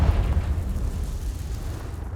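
Confringo spell exploding in the video game Hogwarts Legacy, a loud rumbling blast that trails off into a dull roar over about two seconds.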